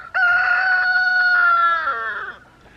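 A rooster crows once in a backyard chicken flock in spring, a loud, close, drawn-out call that holds steady and then trails off. No one speaks.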